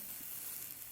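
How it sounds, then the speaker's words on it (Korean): Marigold petals roast in a hot pan, giving a faint, steady, even sizzle for a single second with no voices over it. "메리골드가 이제 지지직직 소리가 좀 덜 나죠."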